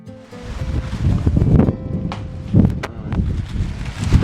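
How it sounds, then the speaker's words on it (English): Gusty wind blows across an outdoor workspace where brake lines are being bent and fitted on an Austin Healey 100/4 (AH36), buffeting steadily and loudly in waves for a few seconds with no talking. "The wind's picking up"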